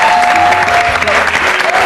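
A TV studio audience applauds a guest illusionist on a weekend talk show, loud and sustained clapping with a faint tonal hum running beneath it and no speech.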